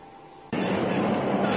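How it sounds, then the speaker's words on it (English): A Guangzhou subway train rumbles loudly and steadily at close range, suddenly swelling into a dense roar partway through and holding that level to the end. "the quickest and easiest way to get around is the subway"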